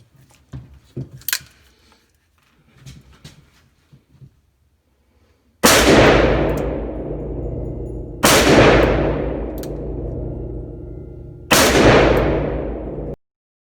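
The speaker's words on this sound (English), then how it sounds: "I'll try to roll in the video footage of that, of those first few shots" Three loud, sharp gunshots from a Smith & Wesson 460XVR Performance Center revolver fitted with a Bushnell scope, each followed by a long echoing roll, spaced a few seconds apart after quiet handling sounds.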